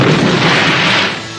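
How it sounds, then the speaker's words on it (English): A Voltron toy's big back-mounted cannon accessory fires with a loud, sustained electronic blast-and-boom effect that fills the short moment and fades slightly at the end, no voices over it. "he comes with this big cannon accessory right here on the back, and it is firing"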